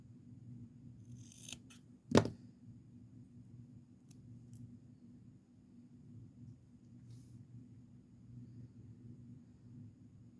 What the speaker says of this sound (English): now we need an orange, of which I have to cut one